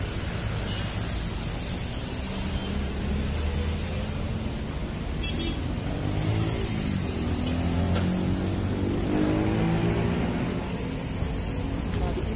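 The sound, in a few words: traffic congestion noise on road in Jatinegara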